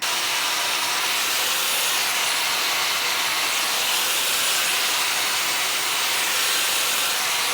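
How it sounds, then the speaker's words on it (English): A blow dryer fitted with a diffuser runs on low heat while drying curly hair, giving a steady, close, unbroken airy whoosh that lasts throughout with no talk. "I would use a diffuser. It just connects to your blow dryer."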